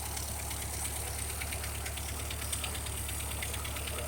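A Ferguson TO-35 tractor engine runs at a steady idle nearby with a rapid knocking, chuffing beat from a bad exhaust leak, with no talking over it.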